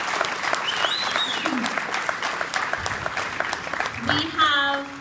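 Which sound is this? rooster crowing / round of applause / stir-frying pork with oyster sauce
round of applause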